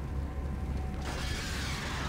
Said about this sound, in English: That was the sound of an enemy.